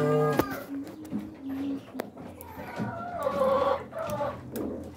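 Rhode Island Red breeder chickens cluck and call from a cage, several birds giving short, close, uneven clucks while a person talks alongside.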